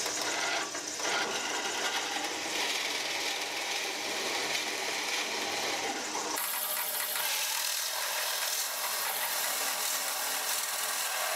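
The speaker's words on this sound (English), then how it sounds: "come around and follow these lines with the jigsaw" A jigsaw buzzes continuously as it cuts along marked lines in wood, its tone shifting partway through as the blade moves along the cut.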